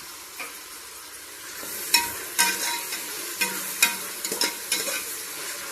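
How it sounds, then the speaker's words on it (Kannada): Food fries in a pan toward golden brown with a soft, steady sizzle. A spoon stirs it in sharp, irregular scrapes and taps, close and alone. "ಇದು ಚೆನ್ನಾಗಿ ಗೋಲ್ಡನ್ ಬ್ರೌನ್ ಬರೋಕತ್ತನೆ ಫ್ರೈ ಮಾಡೋಣ ಗೈಸ್"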